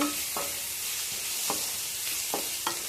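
Onions frying in a pan, partly under a lid, for a mushroom fry: a continuous close sizzle and hiss with four soft knocks of stirring spread across a few seconds, no voices.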